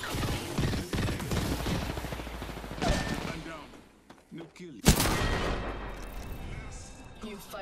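Loud bursts of rapid automatic gunfire in a first-person shooter game, with dense volleys, a brief lull, then a sharp close blast and more firing.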